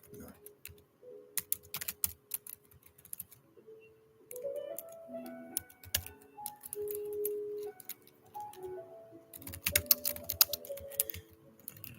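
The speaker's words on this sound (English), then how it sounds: "Just typing in something" Scattered keyboard clicks tap away in irregular bursts while a soft melodic tone plays quietly underneath, close and fairly faint overall.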